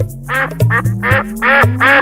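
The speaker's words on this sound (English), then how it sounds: "Ducks," Ducks quack repeatedly in a steady rhythm, about five loud, close nasal calls in a row with nothing else behind them.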